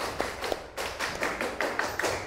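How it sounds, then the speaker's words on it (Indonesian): A classroom group claps for group 8, a short burst of uneven slaps and taps from a few people nearby, somewhat irregular rather than a full crowd roar. "tepuk tangan buat kelompok 8 dulu"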